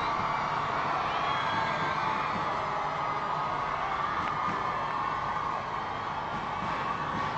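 A steady crowd wash of cheering and scattered whoops greets a royal wedding procession, a dense, continuous roar heard from a distance that holds level throughout with no single voice standing out.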